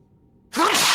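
A single sharp sneeze bursts out suddenly after a quiet moment, loud and close with a breathy, noisy release that trails off.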